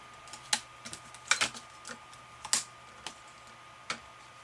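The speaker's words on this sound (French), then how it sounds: "Je fais qu'un passage pour voir si le dies coupe bien quand même." A die-cutting machine running a pass with paper and a die makes irregular light clicks and ticks, some in quick clusters, close and mechanical, with quiet gaps between them and no voices.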